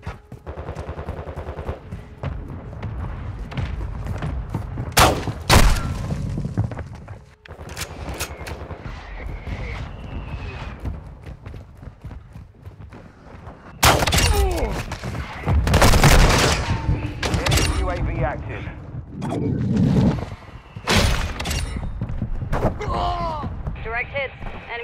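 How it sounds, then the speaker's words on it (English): Mortar strike explosions in Call of Duty: Modern Warfare II boom repeatedly in heavy bursts, mixed with rattling gunfire and scattered impacts, while voices talk over the combat. "Mortar strike inbound."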